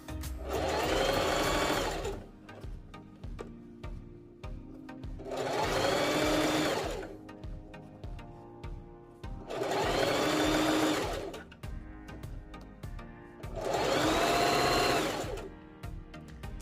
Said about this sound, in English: Line up the fabric and sew.